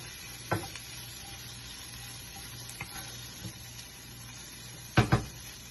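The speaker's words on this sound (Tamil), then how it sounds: "நல்லா தரோவா கலந்து விட்டுக்கோங்க." Paneer sandwich filling is stirred in a pan over a low, steady sizzle, with a few sharp scrapes and knocks of the spoon against the pan, close and quiet.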